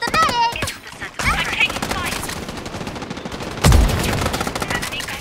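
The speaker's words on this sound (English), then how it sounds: "I'm taking fire." Gunfire in the 5v5 shooter Strinova, with sharp bursts of shots over layered game effects and an in-game voice line. A heavy impact lands near the end.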